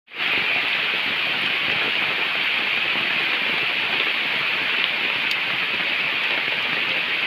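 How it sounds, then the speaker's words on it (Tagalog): Heavy rain pours steadily outdoors, a dense, loud, hissing roar of drops hitting surfaces that starts abruptly and continues without a break for over seven seconds. "inabot tayo ng malakas na ulan dito"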